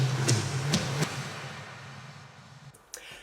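Drum fill played on toms with a reverse fill layered over it: several sharp hits in the first second over a low sustained tone, then a swelling rise and a final hit near the end, with no one speaking.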